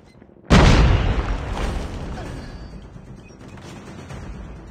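A frag grenade goes off in Call of Duty: one sudden, loud, close blast followed by a long rumbling, crackling decay that fades gradually.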